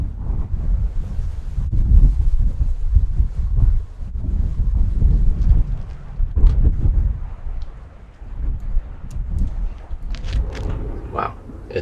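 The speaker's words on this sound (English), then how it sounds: "It's very windy outside." Strong gusts roar outside a truck parked by the sea, buffeting the microphone with heavy, uneven rumbling that swells and dips, with no voices.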